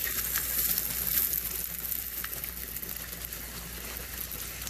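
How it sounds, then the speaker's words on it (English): Pork chops searing in smoking-hot olive oil, a steady close hissing sizzle with fine crackles, constant and even throughout. "I've got olive oil going on here. It's smoking hot. And I am going to sear the pork chops."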